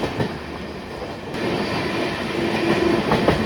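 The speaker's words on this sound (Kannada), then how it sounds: "ಹೆವಿ ಸ್ಪೀಡಲ್ಲಿ ಕ್ರಾಸಿಂಗ್ ಆಗ್ತಾ ಇದೆ" Siddhaganga Superfast Express crossing at heavy speed on the line near Hubli, a dense continuous rumble and rattle of wheels on track, growing louder partway through, with brief faint wheel squeal near the end.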